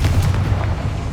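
A Confringo blasting spell in Hogwarts Legacy lands as a brief, loud, low booming explosion with a rumbling tail, close by, with no voices over it.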